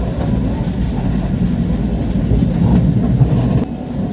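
KA Pangrango passenger train rolling along rails, a steady low rumble with faint clickety-clack of wheels, heard continuously from close by with no speech.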